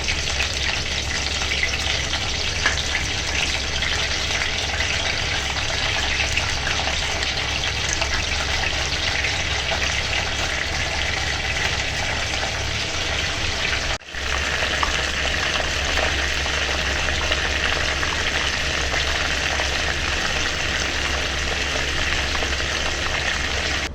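Crab frying in butter and masala with garlic, a steady dense sizzle running loud and unbroken, with a momentary dip partway through.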